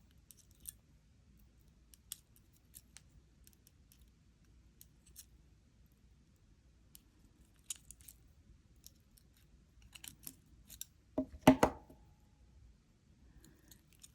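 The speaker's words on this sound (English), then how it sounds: "Now I'm going to cut off the excess and pinch down my burr." Jewelry wire trimmed with wire cutters while making a Keshi pearl and circle-link necklace: a quiet room with faint scattered ticks, then a quick cluster of sharp snipping clicks near the end.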